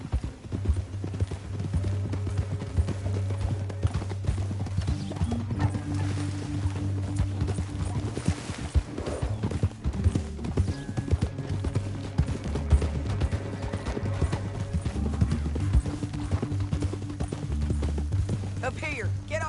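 Horses clip-clop and gallop steadily across a Red Dead Redemption game scene, hoofbeats running throughout beneath a sustained musical score, with a possible whinny mixed in.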